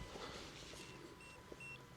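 Faint electronic beeps from a 580W van battery charger, a few short high tones in a row, over a low steady hum in a quiet space.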